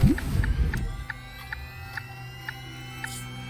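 A printer in the Astroneer video game starts with a swirling whoosh, then settles into a steady mechanical hum punctuated by evenly spaced soft clicks.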